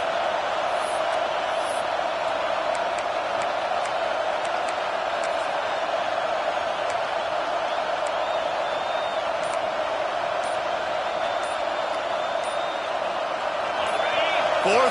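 A college football stadium crowd roars steadily on a defensive fourth down, a dense, loud wall of cheering with scattered shouts, as a commentator speaks over it.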